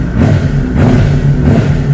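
Engine of a Honda CBR600RR sport motorcycle revving in short repeated bursts, a steady mid-pitched growl swelling and easing about every half second, close and loud with no talk.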